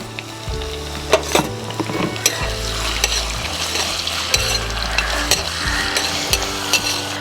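Ginger, garlic and green chilli sizzle steadily in a hot pan, with repeated stirring scrapes and occasional sharp clinks of a utensil against the metal, close and fairly loud with no talking.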